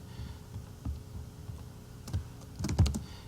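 Keystrokes on a computer keyboard while setting up a LiveBinder page, a few scattered clicks early on, then a quicker burst of taps near the end, close and moderately quiet.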